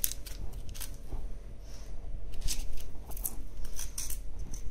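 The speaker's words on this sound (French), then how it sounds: "Regardez, je coupe ce cartilage." A knife cutting through cartilage on a leg of veal, heard as a few short, close crisp snips and crunches over low background hum, with no speech.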